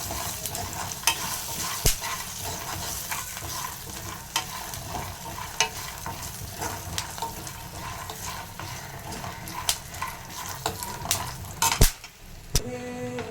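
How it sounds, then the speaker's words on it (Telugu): Peanuts fry in hot oil in a pan, giving a steady crackling sizzle punctuated by sharp clicks and scrapes of stirring, close up and without speech. "పల్లీలు ఫ్రై అయ్యాయి."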